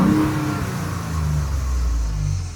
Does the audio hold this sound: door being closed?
no